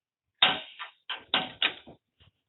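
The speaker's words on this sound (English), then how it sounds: "Once we're finished, we have to make sure that we close our door" The radiator access door on an S700 Series combine harvester is swung shut, giving a quick series of four or five sharp metallic clunks and rattles close by, then a faint final tap.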